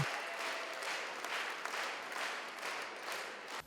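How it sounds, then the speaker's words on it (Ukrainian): A concert audience gives a standing ovation, with dense, sustained clapping that carries on evenly from start to finish and no voices standing out. "Як подяку музиканти отримали шалені оплески стоячи."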